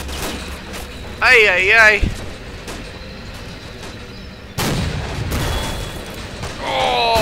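Gunfire and explosions in the Army Men mod of a war video game, with tanks under heavy fire. Bursts of broadband impact noise and rumbling booms arrive at mid distance, and a voice exclaims loudly over the battle.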